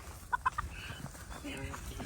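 A few short clucks from chickens nearby, followed by softer clucking and murmuring in a quiet background.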